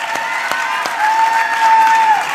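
A few sharp claps break out, then light audience applause at a political forum, with a steady high electronic tone humming through the room over the clapping.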